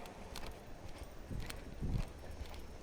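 Soft hoofbeats of a young horse walking at a horsemanship clinic, a few uneven thuds on the ground amid quiet outdoor background.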